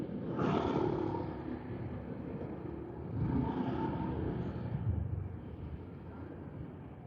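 A vehicle engine with a stainless crash guard runs nearby, giving a low rumbling hum that swells twice as it passes or revs, then settles to a fainter drone, with no talking.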